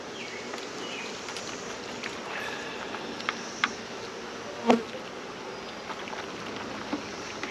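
Bees buzzing in a steady, dense drone around a beehive, the hum continuous and close throughout with a few louder passes near the middle and no talking.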